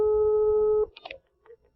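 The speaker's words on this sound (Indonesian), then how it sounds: "cepat angkat telepon" A telephone rings with a steady electronic tone for under a second and then cuts off abruptly, leaving a few faint, brief handling sounds and quiet background noise.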